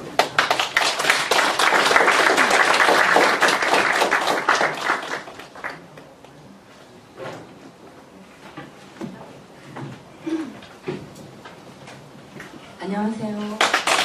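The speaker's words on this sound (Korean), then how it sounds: "큰 박수 부탁드립니다." Dense, loud audience applause welcomes a professor giving a lecture at Keimyung University, filling the first several seconds before thinning out. Scattered claps and a speaking voice follow.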